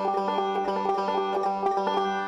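A banjo picked by the right hand alone with three finger picks, producing a rapid, continuous rolling stream of bright plucked notes that ring together at an even level, with no voices.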